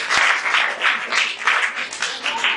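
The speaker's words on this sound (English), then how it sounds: "Please clap for me." A short round of applause from a small group, clapping in uneven swells that stay steady and fairly close throughout.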